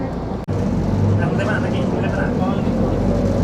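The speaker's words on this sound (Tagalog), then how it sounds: "Ayan, nasa bus na kami." A bus engine drones steadily while driving in Malaysia toward Batu Caves, a loud continuous rumble with cabin noise throughout.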